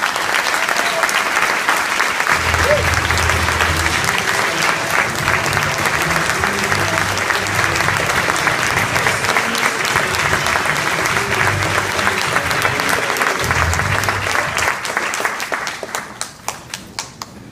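A large audience breaks into sustained, dense applause that holds steady for well over ten seconds before thinning into scattered final claps.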